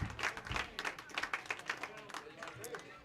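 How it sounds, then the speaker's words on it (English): Crowd at a Chandler-Gilbert college baseball game clapping and cheering in bursts, fairly faint and mixed under a commentator's voice. "There is a sizable Chandler-Gilbert crowd that has been vocal here today."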